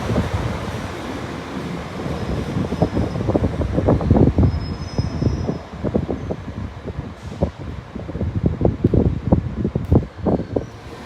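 A Northern passenger train, class 150 unit 150023, runs through Sheffield station on the Nottingham to Leeds service, wheels clattering in a rapid rhythmic beat over rail joints with an underlying engine rumble and a faint brief squeal.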